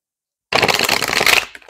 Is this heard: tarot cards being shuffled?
yes